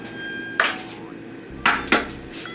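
Two eggs go into a bowl for a dessert recipe: three sharp clinks of shell against the bowl, one alone and then a close pair, loud against a quiet kitchen background.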